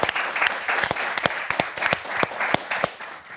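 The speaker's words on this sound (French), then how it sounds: "Je vous demande d'applaudir et d'encourager David Barbet." Studio audience applauding on a French football television show, a dense continuous clapping with sharp individual claps standing out, fairly close and steady throughout.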